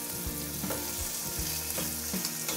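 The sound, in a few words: thin chicken breast pieces sizzling in a frying pan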